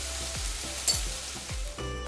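Noodles are tossed and stirred with a fork in a wide pan over steady frying sizzle, with a few soft scraping strokes repeating roughly every half second and a brief clink near the middle.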